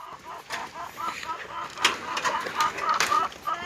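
Laying hens clucking close by, short repeated calls over a quiet background with a few scattered louder squawks.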